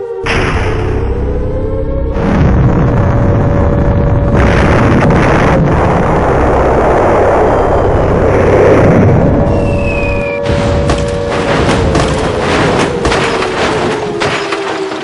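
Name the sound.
bombs falling and exploding nearby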